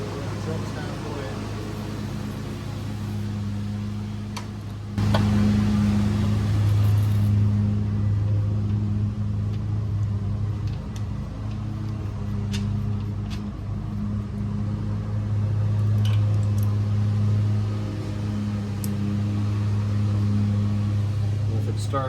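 A 1937 John Deere B tractor engine catches and settles into a loud, steady low chugging idle that runs on and on, with people talking nearby.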